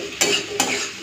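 Okra (ladies' finger) frying in a pan, a steady sizzle broken by two sharp scrapes of a spatula stirring the pieces, close and fairly quiet.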